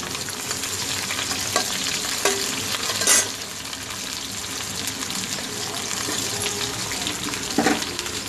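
Green chillies and onions frying and being stirred in a hot pan with tempering spices, a steady loud sizzle with sharp spatula scrapes and clatters at intervals, no talk.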